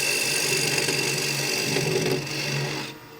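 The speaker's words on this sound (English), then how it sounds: "for this rough shape I use ball gouge" Ball gouge cutting a rough shape on spinning wood on a lathe, a continuous close rasping hiss with a steady motor hum beneath, easing off near the end.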